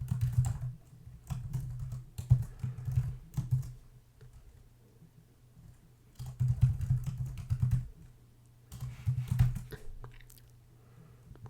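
Code being typed on a computer keyboard in close, quiet bursts of rapid clicking keystrokes, separated by short pauses.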